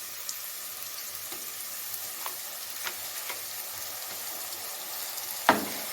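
Onions sizzle steadily in a hot pan for white vegetable kurma, a continuous bright frying hiss with occasional soft stirring clicks and a sharper scrape of the spoon near the end.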